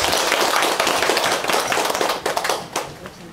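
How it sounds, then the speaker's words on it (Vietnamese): An audience claps in applause to welcome two Buddhist monks, dense rapid clapping from many hands, loud at first then thinning out toward the end. "chúng con xin một tràng pháo tay để đón mừng hai vị tỳ kheo tăng và đi vừa tới"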